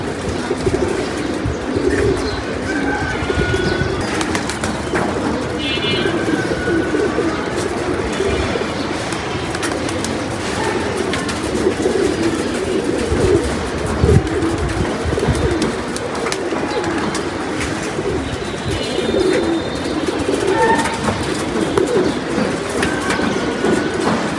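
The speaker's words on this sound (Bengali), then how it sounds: "এই যে আরেকটি কবুতর আসছে অনেক হাইটে" Pigeons coo through a long, dense stretch against a steady rumbling background like a passing train, with faint bird chirps scattered throughout and no voices.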